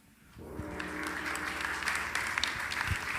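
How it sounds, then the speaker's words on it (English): An audience applauds a speaker at a lightning-round talk event, clapping swelling in quickly and then holding steady and full. "Big round of applause for Tim Merel"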